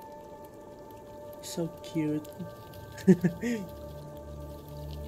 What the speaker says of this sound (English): We're gonna wait till the rain goes down.